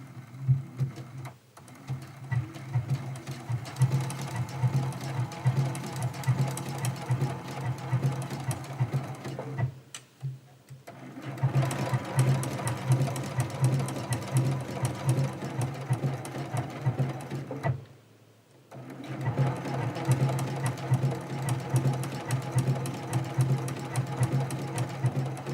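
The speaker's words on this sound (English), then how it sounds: "I'm going to start sewing right along the side edge, and we're going to go all the way around with the blanket stitch." Sewing machine running a blanket stitch along the edge of a quilt, a steady close mechanical whir with a rapid needle pulse, pausing briefly twice before starting up again.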